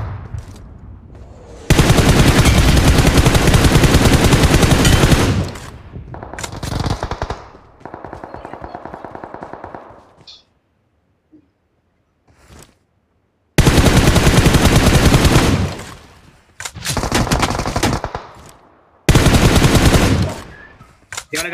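Gunfire in the mobile battle royale game BGMI: loud sustained automatic bursts lasting several seconds each, separated by quieter gaps with faint distant shots and clicks.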